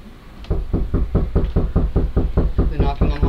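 Rapid, loud, evenly spaced knocks pound on a house door in Sidney, Maine, about a dozen blows close by in steady rhythm.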